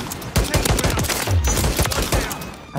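A DM56 semi-automatic rifle firing in Modern Warfare 3, with a rapid string of sharp, punchy shots in quick succession, close and loud against busy game noise.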